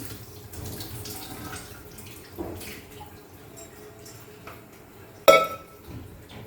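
Steady running water from a tap with scrubbing and splashing, plus a few light clinks and one sharper knock near the end.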